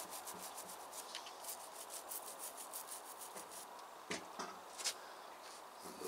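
A toothbrush scrubs a table in a greenhouse in quick, faint, rhythmic brushing strokes close by, with a few sharper knocks near the end.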